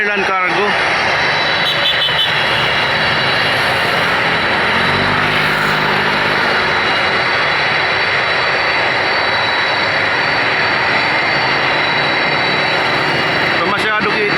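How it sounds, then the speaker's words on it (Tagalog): China Airlines cargo airplane engines at an airport, a loud continuous jet roar filling the whole stretch, close and steady, with a person talking over it. "Ang laki ng aeroplano. China Airline Cargo."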